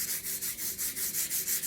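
Light back-and-forth sanding over a dried napkin-decoupage surface, a steady rhythmic rasp of roughly eight even strokes, close and quiet, with no voices.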